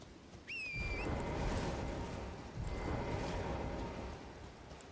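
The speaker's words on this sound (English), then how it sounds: "for fuck's sake, it's raining" Rain falls steadily in the video game Elden Ring, a soft continuous hiss that swells and eases. A brief whistling chirp sounds near the start, and no one speaks.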